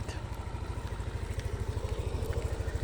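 A Yamaha NMAX version 3 scooter's exhaust runs with a steady, low, throbbing pulse, close and continuous, on a street in Pasig.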